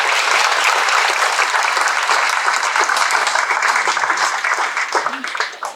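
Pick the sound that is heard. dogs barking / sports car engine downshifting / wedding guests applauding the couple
wedding guests applauding the couple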